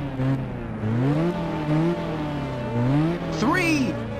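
Race cars in the Ridge Racer PSP video game idle and rev on the grid before the start, engines droning steadily with rising and falling pitch swells, ending in a quick whooshing sweep near the end.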